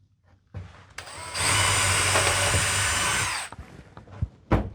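Power drill spinning a 1/8 inch bit, a couple of short revs and then one sustained loud whine of about two seconds before it cuts off, followed by light handling clunks.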